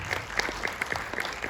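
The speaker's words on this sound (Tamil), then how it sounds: "நல்லா கை தட்டுங்க" Audience members at a film screening and press conference clap, with distinct individual hand claps standing out in a lively burst of applause.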